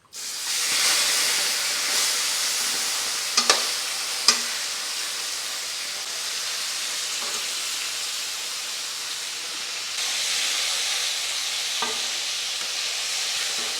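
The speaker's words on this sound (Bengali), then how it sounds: "কড়াইতে দেওয়া হয়েছে তেল তেল গরম হয়ে গেছে আর এখন দিয়ে দিচ্ছি মাছ" A large fish head sizzles in hot oil in a wok, a steady loud hiss of frying with a few sharp crackles and pops, no talking.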